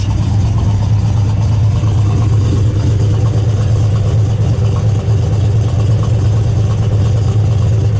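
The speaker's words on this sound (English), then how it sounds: "I gotta hear this idle. Just let it idle for a second." A 429 big-block V8 in a 1970 Ford Torino Cobra idles with a deep, lumpy, rhythmic rumble, steady and loud at close range, with no one speaking.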